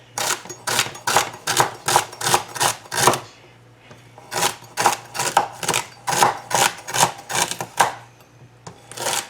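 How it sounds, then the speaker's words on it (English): A knife chops celery stalks on a cutting board in quick, even bursts of crisp strokes, pausing briefly midway before resuming at the same steady rhythm, close and clear with no talking. "I'm just going to cut up a couple of stalks of celery here"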